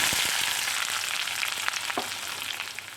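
Sliced onions and small shallots sizzle in hot oil for a kakka (clam) roast, a steady close frying hiss with a few scattered crackles and stirring clicks, no voices.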